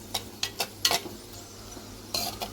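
Onion and green chillies fry in hot oil, a low sizzle under a handful of quick scraping stirs and light utensil taps against the pan, no one talking.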